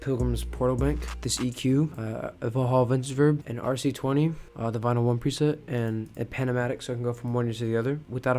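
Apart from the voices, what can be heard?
No everyday noises stand out.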